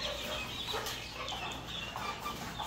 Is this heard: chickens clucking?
yes